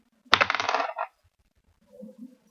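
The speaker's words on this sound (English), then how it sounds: "I'm going to roll this dice." A die is dropped and clatters across a hard surface in one quick burst of bright rattling, then after a pause settles with a couple of softer taps.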